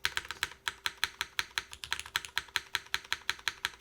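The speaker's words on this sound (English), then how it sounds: "A long pole spacebar. It just sounds abnormally flat" A long-pole spacebar on an MK Point65 keyboard is pressed over and over in a fast, even rhythm, each close, crisp clack sounding flat and alone with no talk.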